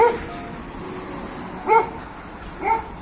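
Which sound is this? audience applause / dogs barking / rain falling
dogs barking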